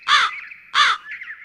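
A cartoon crow gives two harsh, loud caws about half a second apart, each followed by a short trailing tail, close and alone.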